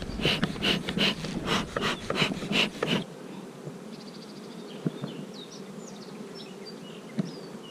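Honeybees buzz at a small mini hive while the queen is being taken out; a dense, steady insect hum sits under strong rhythmic noise for the first few seconds, then continues faint and close with occasional brief whines.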